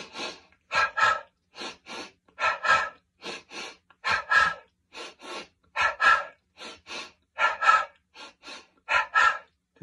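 Breathing exercise done with crossed arms and pinched earlobes: sharp, quick snorting in-breaths each followed by an audible out-breath, repeated in a steady, close, rhythmic series of paired bursts with short pauses between.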